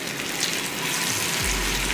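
Rohu fish pieces frying in a pan for a masala fish fry, giving a steady, close hiss and sizzle that continues without a break.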